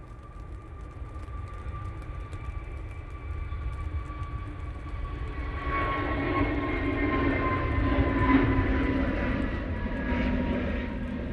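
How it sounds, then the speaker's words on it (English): Jet2 airliner engines spool up at Manchester Airport, a distant, steady whine and rising roar that swells and broadens midway, with no speech. "Jet2's pushed in, that's why I can hear power."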